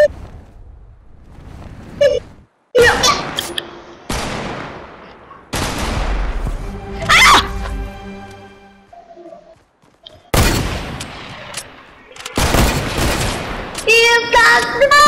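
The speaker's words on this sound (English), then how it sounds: "He's trying to shoot me!" Bursts of gunfire in the video game Fortnite ring out loudly, with rapid automatic volleys and single heavy shots separated by brief pauses.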